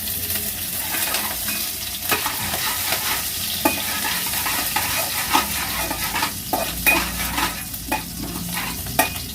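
Cumin, asafoetida and green chili sizzle steadily in hot oil in a home kitchen, with a loud, continuous crackling hiss and occasional sharper pops, close up and with no talking.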